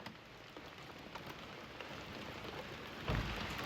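Rain falls steadily on a surface around an RV, a dense, even patter at modest level with a slightly louder burst near the end.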